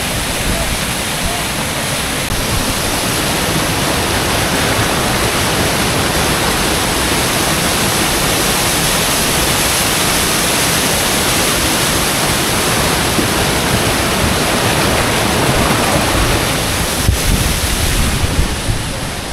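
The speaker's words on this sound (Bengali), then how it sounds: "এখান থেকে কি ফোর্সে জলটা নামছে, অসাধারণ লাগছে, বিশাল ফোর্সে জল নামছে।" Kempty Falls near Mussoorie sends water crashing down with great force, a loud, unbroken close-up roar of rushing spray that fills the whole stretch, with wind buffeting the microphone.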